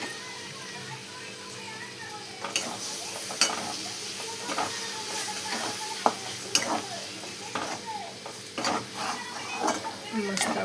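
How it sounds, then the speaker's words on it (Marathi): Eggs being stirred in a hot pan for egg bhurji, with a soft continuous sizzle and repeated scraping and tapping of a spatula against the pan at close range. "मस्त आपण हे असं परतून घेऊया बघा."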